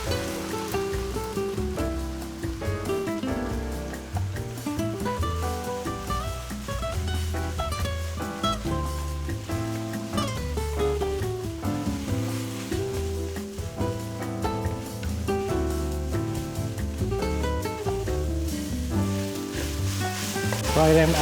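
Pineapple fried rice with Chinese celery stir-fried in a wok, a dense continuous sizzle with tossing and scraping, close and steady, with music playing over it.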